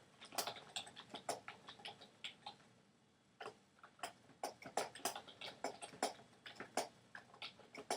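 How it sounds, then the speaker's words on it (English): Rapid keystrokes on a computer keyboard while typing a message, an uneven patter of clicks with a short pause midway, close and clear with no talking. "And then we could type in a message"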